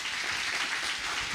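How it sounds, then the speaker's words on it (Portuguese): A church congregation claps loudly and steadily in praise, a dense, continuous wash of many hands with no voices over it. "Aplauda bem forte ao Senhor."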